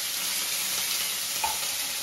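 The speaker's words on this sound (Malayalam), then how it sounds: "കരിവേപ്പിലേതൊക്കെ മറ്റേ വെള്ളം ഇരിക്കുന്ന കാരണം നല്ല പോലെ പൊട്ടിത്തെറിക്കുന്നുണ്ട്" Green chillies and curry leaves still wet with water crackle and splutter in hot oil in a pan, a steady bright sizzle with one sharper pop.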